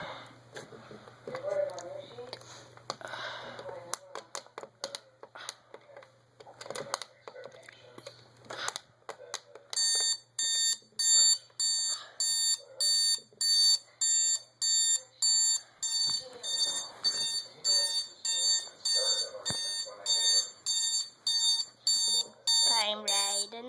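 A Sharp SPC051 alarm clock rings in a steady series of sharp, evenly pulsed electronic beeps, loud and close, following a stretch of talking.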